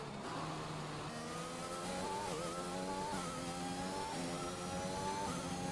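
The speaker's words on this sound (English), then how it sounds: "Engine sound makes me sad." A Formula One race car engine in the F1 2021 video game screams at high revs, rising through gears with brief dips at each shift, loud and continuous with no talking.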